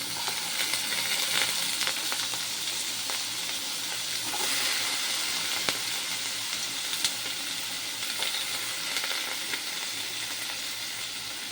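Cut chayote (chow chow) pieces for poriyal frying in a pan, giving a steady, close sizzle with a continuous hiss and a few sharper crackles throughout.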